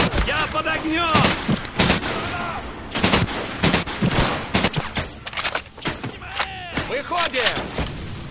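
Machine gun and rifle fire in a Medal of Honor: Pacific Assault village battle, with rapid bursts and single shots crackling loudly over and over while someone shouts over the gunfire.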